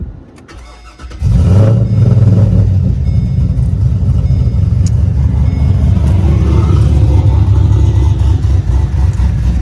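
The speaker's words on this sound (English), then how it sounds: "this is the L76. This is a 6-liter. It's a LS based engine." A 6-liter LS-based L76 V8 with an aftermarket cam cranks and catches, then settles into a loud, close, lumpy idle with a choppy rumble and light revs throughout.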